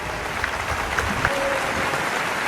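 Brief applause from an audience greeting a four-year-old public speaker at an event with the Karnataka Chief Minister, a soft, moderately distant patter of clapping lasting a couple of seconds.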